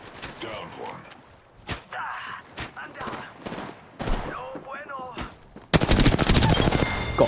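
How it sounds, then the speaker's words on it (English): Gunfire in an Apex Legends gunfight: scattered single shots and impacts, then a loud sustained burst of automatic fire at the end, with a player talking throughout. "They're shooting at me."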